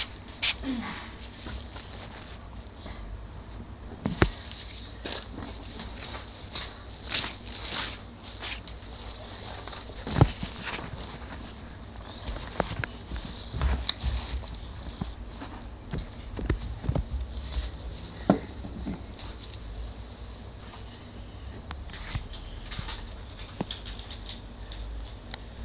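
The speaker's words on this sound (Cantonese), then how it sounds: "哇！ 落雨啦！" Rain falling on a small model house, heard as a steady pattering hiss with scattered sharper drops and taps, close and continuous, with no speech over it.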